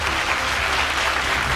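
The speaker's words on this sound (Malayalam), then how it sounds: "നല്ലൊരു കയ്യടി കൊടുക്കാം നമുക്ക്." Brief, steady burst of dense audience applause at an event honoring a teacher, many hands clapping at once at an even loudness with no pauses.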